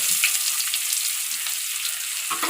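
Chopped onions fry in a pan for brinjal and mango sambar, a steady close hiss of sizzling oil with faint light stirring sounds.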